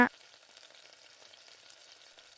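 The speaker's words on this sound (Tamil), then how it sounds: "ஸ்டவ்வை நல்லா கம்மி பண்ணி வச்சுட்டு வறுத்துட்டு கடுகு பருப்பு சேர்த்துக்கோங்க." Peanuts, mustard seeds and dal fry in oil over a low flame for a Tamil tomato chutney. A brief knock opens the clip, then a faint, steady crackling sizzle continues alone.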